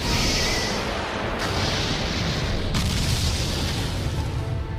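A huge, sustained roaring blast fills the sound, dense and loud throughout, with a couple of sharp bursts layered into the rumble.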